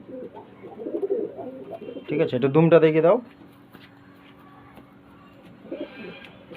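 A male pigeon gives a short, strong burst of cooing at close range, set between stretches of someone talking while the bird is handled.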